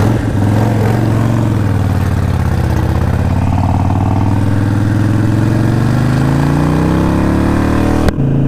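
A Harley-Davidson Sportster motorcycle engine runs steadily close by, its low, throbbing, harmonic rumble climbing in pitch as the bike pulls away on the Colonial Parkway ride, then cuts off abruptly near the end. No one speaks.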